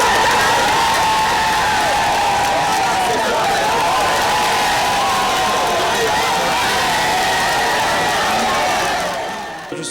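A dense, very enthusiastic crowd at a national military and paramilitary parade cheers and applauds steadily, a loud continuous roar with shouts carrying through it, fading slightly at the end.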